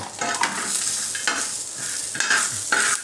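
Peanuts and green chillies fry in a pan and are stirred, giving a close, continuous sizzle with repeated scraping strokes.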